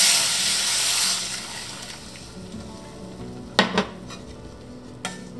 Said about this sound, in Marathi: आता आपण त्यात आपलं पायनॅपल पल्प मिक्स केलेलं गरम पाणी घालणार आहोत.